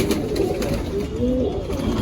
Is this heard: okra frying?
no